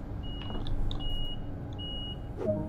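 Door-locking warning beeps in a Deutsche Bahn train simulator video game, a series of short high-pitched tones followed by longer steady beeps, clear and close, repeating over a low cab hum.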